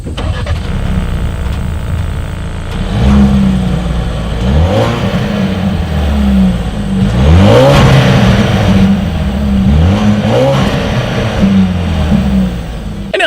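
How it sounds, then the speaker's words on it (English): A 2017 Ford Escape with dual chrome-tipped exhaust outlets is revved several times from behind, each loud rising blip of engine note falling back to a steady idle between. "here is that exhaust clip."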